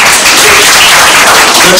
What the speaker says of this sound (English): So let's give God a clap hand again.